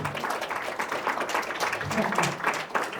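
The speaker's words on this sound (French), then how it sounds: "On peut l'applaudir fort" An audience applauds a dancer and singer at a live performance, a dense, continuous clapping at moderate level from a crowd, with a voice faintly mixed in.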